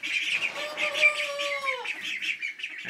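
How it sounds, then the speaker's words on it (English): Small runner ducks chirp and peep steadily up close on a farm, one drawn-out call sliding down in pitch. "these are runner ducks, and these guys are just going to be kind of little pets on the farm"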